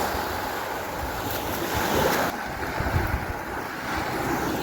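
Ocean waves roll and surge against the shore on a breezy morning by the sea, a steady broadband wash with gusts of wind buffeting the microphone and swells rising around the middle, with no voices.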